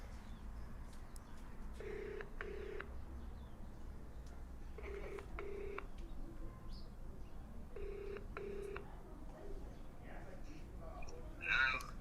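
An outgoing phone call rings back while waiting for an answer, sounding as three evenly spaced double-ring bursts over a quiet, low background hum.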